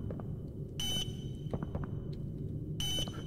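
Alarm beeping in the horror video game Poppy Playtime Chapter 2: two brief high electronic beeps about two seconds apart over low background rumble and scattered clicks, moderately faint.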